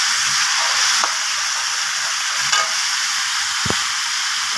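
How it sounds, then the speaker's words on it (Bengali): Dried red chilies and lentils frying in a pan give a steady, close broadband sizzle throughout, with a few brief stirring clicks and scrapes, and no voices. "এবার আমি এর মধ্যে শুকনো লঙ্কা দুটো দিয়ে দিচ্ছি"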